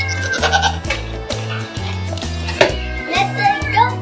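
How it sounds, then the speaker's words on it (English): Goats on a homestead bleat as the females are let out of their pen, several wavering cries overlapping near the microphone over a steady low hum and other background noise. "Let the goats free!"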